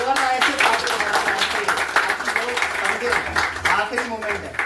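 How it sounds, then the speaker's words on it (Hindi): Applause from the audience at a weekly IMC business meeting in Kalwa, sustained for several seconds with voices talking over the clapping. "एक जोरदार ताली मनीषा जी के लिए होनी चाहिए"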